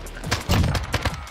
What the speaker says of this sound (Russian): он стреляет от бедра и попадает в него все пули